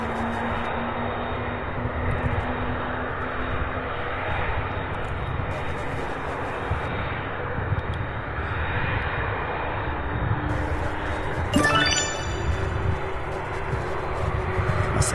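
MD-11 and Boeing 767 jets at Louisville International Airport's UPS Worldport, with a steady jet engine rumble and whine carrying on throughout, a brief rising tone near the end, and a voice talking over it.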